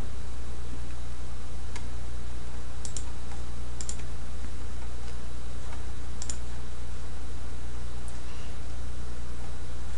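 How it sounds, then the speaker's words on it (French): Computer mouse right-clicks and clicks while editing an image in Photofiltre: a handful of faint, sharp clicks spaced irregularly over a steady electronic hiss, with no talking. "Je vais faire un clic droit dans cette zone et je vais cliquer sur coller."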